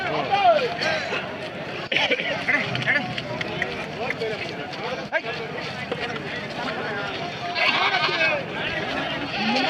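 Goats and sheep bleat repeatedly at a busy livestock market in Tumkur, several animals calling close by amid constant crowd chatter and someone talking.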